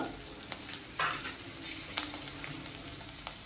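Chilli chicken fries restaurant-style in a pan with a continuous soft sizzle. A few brief clinks and scrapes sound over it, and there is no talking.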